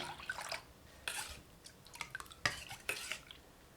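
Thick rava dosa batter is stirred with a spoon after an extra cup of water goes in: close, quiet bursts of wet scraping and sloshing with light clinks against the bowl, without any talk.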